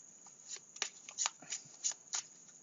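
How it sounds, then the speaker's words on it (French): A deck of tarot-style cards is shuffled by hand, producing a series of soft, quick riffling swishes and taps at an irregular pace, close and fairly quiet with no talking. "Donc, je vais mélanger le premier. Je vais faire avec deux jeux."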